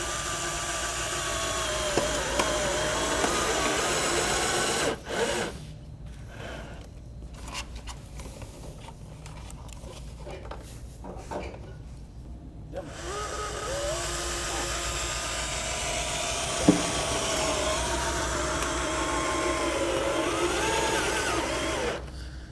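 A screw is driven into a metal roof panel with a power driver, giving a loud sustained whirring grind that pauses briefly midway and then resumes, steady and close.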